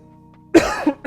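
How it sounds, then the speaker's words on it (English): A man coughs hard and close by, one sharp harsh cough followed by a second rougher burst, and then a third begins, with no talking. "sorry guys for all the coughing"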